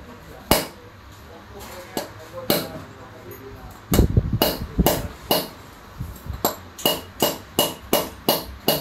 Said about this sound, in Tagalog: Ito ang gamit niyan pag nagtanggal kayo ng valve guide. Pukpok lang yan.